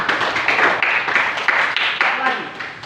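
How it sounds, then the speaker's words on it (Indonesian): A school class claps their hands together in a quick, steady rhythm, loud and close, with voices mixed in. "Oke, tepuk tangan."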